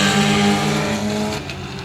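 Race cars at 281 Speedway roar off together on a green flag start, a loud, sustained engine drone with steady harmonics holding for nearly two seconds before easing slightly.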